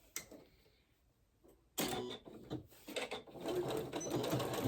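A domestic sewing machine stitches a shirt seam close by. After near silence and a soft click, the motor starts abruptly with a rapid, whirring needle clatter that runs steadily to the end, with no voices.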